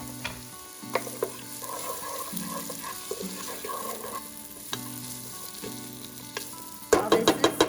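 Garlic, onions and ginger stir-fry in a hot pan with a steady, close sizzle that runs throughout, ending in a louder burst of clattering crackle.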